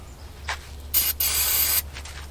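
Berryman aerosol sprayed into the updraft carburetor of a 1944 Ford tractor, heard as a short hiss followed by a longer, louder continuous spray burst over a low idle-like hum.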